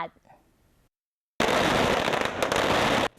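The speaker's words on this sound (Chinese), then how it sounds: "炮声乒乒叫" Firecrackers explode in a dense, loud crackling barrage lasting under two seconds at a Taitung lantern festival rite, where strings of firecrackers are thrown at a man standing in as the deity Handan. A faint voice and quieter crackle come first, then a brief gap.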